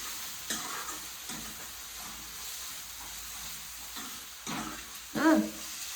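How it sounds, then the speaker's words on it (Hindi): Chillies fry in leftover ghee in a pan after turmeric, giving a soft, steady sizzle with occasional stirring scrapes and a louder burst near the end, with no voices. "अब भूनेंगे मिर्ची को उसी घी से जो कि बचा हुआ था ना, उसी घी से।"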